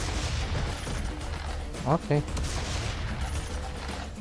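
A double-barrelled shotgun in the shooter game Serious Sam 3 BFE fires two quick blasts close together, partly buried in dense game noise, with a brief spoken word nearby.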